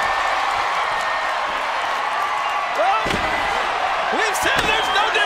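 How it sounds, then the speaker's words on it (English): Sharp slam as a steel chair strikes a wrestler during a no-disqualification WWE match, one heavy impact followed by another, heard over a roaring arena crowd and a commentator's excited talk. "Lance Cade trying to cover up, but he won't be able to cover up from this chair"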